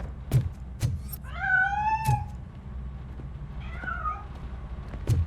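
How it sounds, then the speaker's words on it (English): A cat meows twice inside a building in the game RoboCop: Rogue City, two drawn-out, wavering cries standing clear of the sparse sharp clicks and thumps around them. "That cat must be hiding inside."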